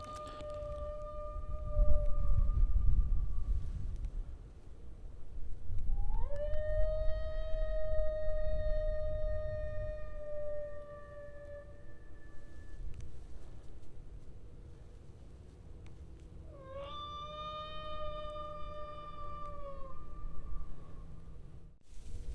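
A lone animal howl rises and holds long, wavering notes twice, across an open field in Ohio during a bobcat hunt with a prey distress call. Each howl is clear and sustained over a low background rumble.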